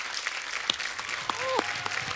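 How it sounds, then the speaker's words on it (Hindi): A television comedy studio audience applauds the cricket champions, a moderate crowd clapping under bright, brief shouts and whoops. "एक बार जोरदार तालियां हो जाए हमारे सारे चैंपियंस के लिए।"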